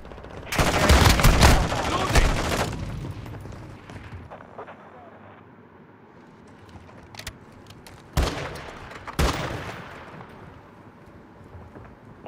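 Gunfire in the shooter Call of Duty: Modern Warfare II: a loud, dense burst of automatic fire opens, then fades into a quiet gap before two more sharp, isolated bursts ring out.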